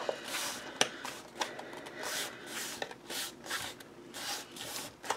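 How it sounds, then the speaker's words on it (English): Folded card for a memory box burnished by hand, close rhythmic rubbing and scraping strokes in repeated bursts, alone without talk. "I'm just giving that a good burnish, break down those fibres in that card"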